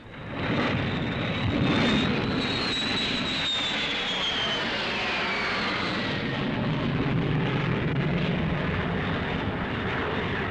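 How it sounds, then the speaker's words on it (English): Military aircraft roar overhead during a wartime air raid, a loud, sustained engine drone that swells in the first seconds and then holds steady, with a high whining tone gliding downward across the passage. "Taking cover while the planes are overhead"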